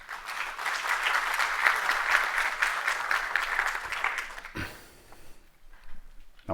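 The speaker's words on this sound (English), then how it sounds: "Round of applause for Dimitri." An audience at a tech conference talk on evolving APIs applauds steadily for about four and a half seconds. The clapping then fades into a quiet room with a few stray sounds.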